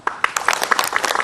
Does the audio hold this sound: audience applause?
yes